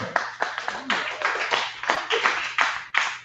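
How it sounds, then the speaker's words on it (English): Scattered audience clapping at a small comedy show, a few hands producing uneven, separate claps in quick bursts, fairly close and without any talk over them. "Clap it up"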